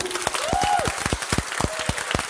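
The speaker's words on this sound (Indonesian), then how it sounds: "Kita berikan aplaus dulu." An audience at a student election candidates' debate in a law faculty claps in a burst of uneven handclaps, with a voice calling out over the clapping.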